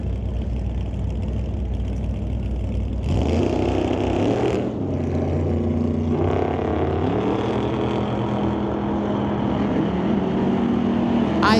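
Super Combo class drag racing cars roar side by side, a loud, continuous engine drone that surges and climbs in pitch as they accelerate down the strip.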